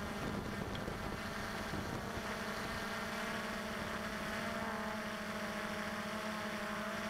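Steady propeller buzz and wind rush from an XK Detect X380 quadcopter on a fast, low-altitude pass, a constant drone with a held tone that barely changes throughout.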